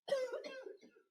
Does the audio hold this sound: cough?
yes